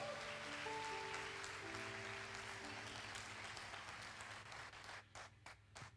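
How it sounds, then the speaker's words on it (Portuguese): A church congregation applauds during an evening worship service, steady dense clapping that holds for several seconds, with sustained organ or keyboard chords under it, before thinning into scattered claps near the end. "Você pode aplaudir a Ele nessa noite?"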